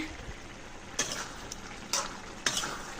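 A spatula scrapes and stirs through a potato, ridge gourd and greens curry simmering in a pan, three distinct scraping strokes over a soft, continuous sizzle, close and fairly quiet.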